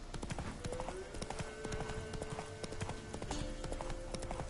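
Hoofbeats of the horse Roach in the video game Witcher 3 The Wild Hunt, a steady clip-clop rhythm continuing throughout at moderate loudness, with a voice talking over parts of it.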